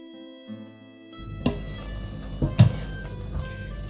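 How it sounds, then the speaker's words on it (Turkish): After a brief quiet moment, chicken starts sizzling loudly in a mix of vegetable oil and olive oil in a pot, with a few clinks and stirring noises. "Biraz sıvı yağ, biraz da zeytinyağı eklediğim tencereme tavuklarımızı attık."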